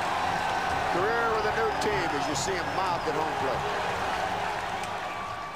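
A large crowd at a baseball stadium roars and chants the name Gary, with rhythmic clapping and voices rising over a steady wash of crowd noise.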